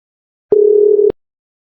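One loud, clean electronic phone tone from the Sakura School Simulator video game, a steady buzzy beep lasting about half a second with sharp clicks at start and end, alone in silence.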